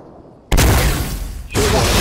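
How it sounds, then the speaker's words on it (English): Valkyrie rockets explode in the video game Fortnite: two loud, close booming blasts about a second apart, each a sudden broad burst that rumbles on without talk. "He just shot a Valkyrie rocket out."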